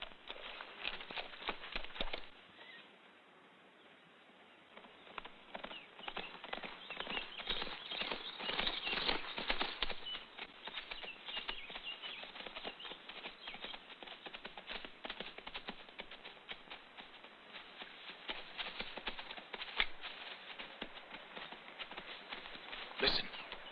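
Horses' hooves clip-clop in a rapid, continuous patter throughout this 1961 sword-and-sandal film scene, with a dull, band-limited old soundtrack quality.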